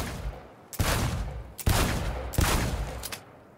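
Three loud bursts of rapid gunfire at a shooting range in Cyberpunk 2077, each lasting under a second, separated by short pauses and fading out at the end.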